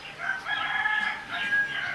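Rooster crowing at dawn on the jungle edge of a remote Fijian island, two drawn-out, fairly close crows in quick succession with a rising, wavering call and light background ambience.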